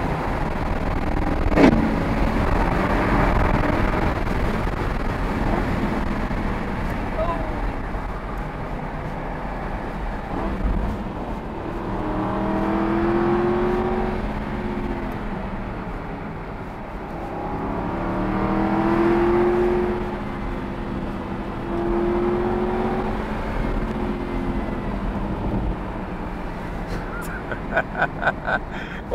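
A 2007 Aston Martin V8 Vantage engine drones and revs in rising and falling swells, heard from inside the cabin while driving downhill, with a brief exclamation from someone.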